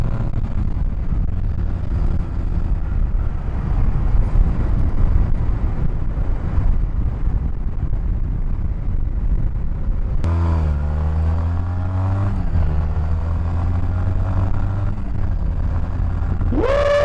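A Mini Hog 250 minibike engine catches after a rope pull. Wind-blown rumble comes first, then the engine fires and revs in rising and falling bursts, loud and close, with a final sharp rev.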